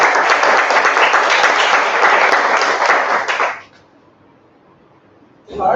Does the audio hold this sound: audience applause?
yes